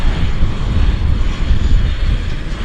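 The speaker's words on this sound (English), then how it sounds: "So let's watch the RJ depart." A regional jet departing Vancouver Airport in strong wind, its engine roar loud, broad and sustained, steady throughout the short stretch with no voices.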